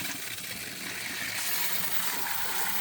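Hot water flowing from a pumped camp shower, a steady broad hissing spray close by that grows slightly stronger after the first second and runs on without a break.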